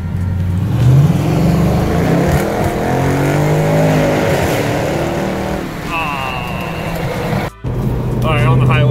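Ford Mustang engine pulling hard on a highway with the window down, a loud, steady rising drone with gear-like pitch sweeps, brief voices mixed in near the end.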